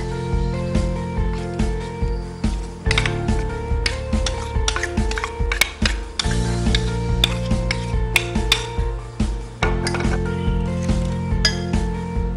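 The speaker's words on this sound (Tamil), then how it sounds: "நம்ம கருகப்பில்லாம் பெருங்காயம் சோ இந்த சூடான ஆயிலையே அத ஆட் பண்ணிரலாம்" Curry leaves and asafoetida hit hot oil in a pan, a steady loud sizzle under repeated clinking and scraping from stirring, with a constant background hum.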